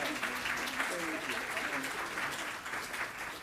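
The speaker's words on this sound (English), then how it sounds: "Please give many rounds of applause" An audience at a keynote address breaks into steady applause, a dense, fairly distant wash of clapping that holds throughout, with a voice briefly heard over it near the start.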